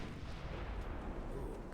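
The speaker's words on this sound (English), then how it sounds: "Ooh, good hits with the guns." Ship guns firing in the naval battle game Ultimate Admiral Dreadnoughts, a continuous low rumbling barrage of distant booms with no clear gaps.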